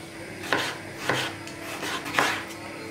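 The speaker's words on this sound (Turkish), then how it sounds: "Çok küçük olmadan şöyle biraz iri iri domatesleri doğruyorum." A knife chops tomatoes into large chunks on a board, three distinct, fairly loud strikes spaced about half a second apart, with no voices.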